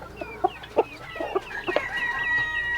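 Silkie chickens, including a rooster, cluck in a steady series of short, close calls over a farmyard background, with no talking.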